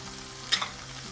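Potatoes and peas fry with mutton keema in a pan, a quiet steady sizzle broken by a couple of brief stirring scrapes midway, with no talking.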